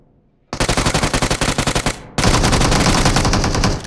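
Rapid automatic gunfire in the BGMI battle royale game: a fast loud burst of evenly spaced shots, a short gap, then a second sustained dense volley very close and dominant.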